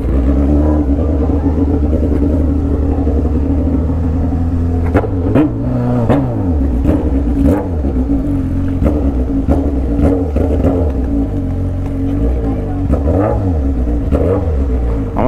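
A Honda Hornet motorcycle with a bare straight-pipe exhaust and a loose, slack throttle revs at a street carnival gathering. It holds a loud, close idle, then gives repeated sharp rising-and-falling revs through the second half.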